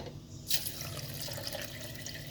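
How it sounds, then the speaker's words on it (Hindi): Water from a glass is poured into a blender jar of peaches and black salt for juice. A brief splash starts the pour, then a steady quiet stream of running liquid continues close by. "1 गिलास पानी डाल दिया है।"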